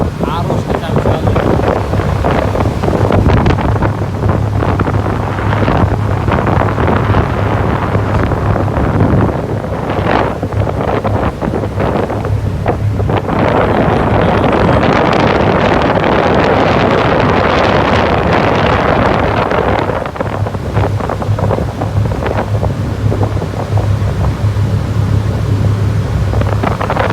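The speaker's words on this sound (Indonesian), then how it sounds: "Angin, arus kencang sekali." Strong wind buffets the microphone on a boat crossing the Bali Strait, a loud, constant roar with rushing water and an engine drone beneath it, and a voice is faintly heard.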